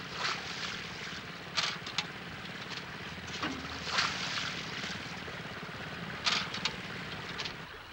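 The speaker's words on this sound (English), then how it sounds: "Here, air is bubbled into the water to break up the glycol and breathe life back into the pool." Air bubbling into an airport balancing pond to break up glycol gives a continuous low watery churn, with several louder splashy gushes rising over it at intervals.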